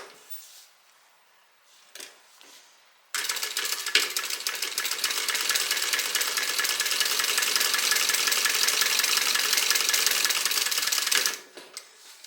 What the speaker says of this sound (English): now we're going to top stitch right here across the top of the pocket